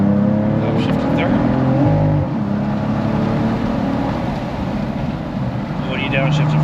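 A Cadillac CT4-V Blackwing's engine drones steadily under hard throttle on the Thunderhill West track, a loud continuous rumble with a brief dip near two seconds as it shifts, while a voice talks over it.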